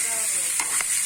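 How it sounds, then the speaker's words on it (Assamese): Goat meat sizzles in hot oil with a bright, even hiss, while two or three quick stirring scrapes cut through in a brief, close burst. "মাংসটো লগাই এতিয়া ধুনীয়াকৈ ভাজিব লাগিব"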